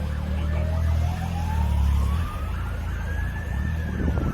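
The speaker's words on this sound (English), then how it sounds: "And sirens are approaching" Emergency vehicle sirens draw closer along a city street near Pulteney Street, a loud wailing tone rising steadily over heavy traffic rumble and outdoor noise.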